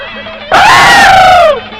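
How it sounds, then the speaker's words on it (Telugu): Man screaming loudly in a long, sustained, piercing yell that cuts in sharply after a quiet start and fades off near the end, in a film scene. "వీడెందుకండి జురాసిక్ పార్క్ సినిమా చూసిన లెవెల్ అరుస్తున్నాడు?"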